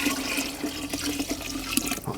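Water pours steadily into a drum for mixing a banana-peel organic fertilizer with jaggery, a continuous loud splashing rush that lasts throughout with no voices.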